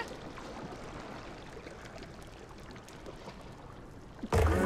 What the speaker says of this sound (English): That's a nice doggy paddle you got.